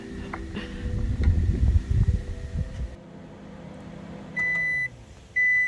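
A camping microwave oven heats a sandwich outdoors, humming steadily under rumbling background noise, then two clear electronic beeps sound near the end as the cycle finishes.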